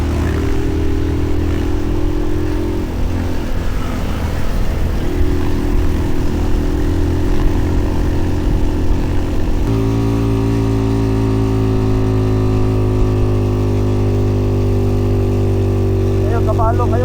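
An overheating motorcycle engine runs steadily in remote areas of the Philippines, droning and shifting in pitch partway through, with a voice talking over it.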